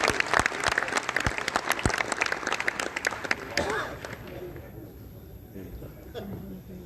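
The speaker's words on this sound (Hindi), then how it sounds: "आप उनका एक बार और जोरदार तालियों से स्वागत" Audience applause welcoming a poet at a Holi kavi sammelan in March 2022: loud, dense clapping from a large crowd over the first four seconds, then fading into a softer, thinning patter.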